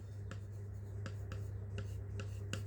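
Marker strokes on a board during a syllogism reasoning lesson, a series of short, separate scratchy swipes at an uneven pace over a steady low background hum.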